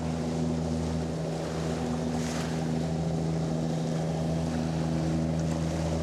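An Offshore 105 Pro fishing motorboat passing at sea off the Isle of Wight, heard as a steady, moderately distant engine drone with wind and water noise around it.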